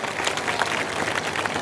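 Dense, continuous clapping from a crowd at a political speech in India, welcoming a guest with a brisk, even wall of applause.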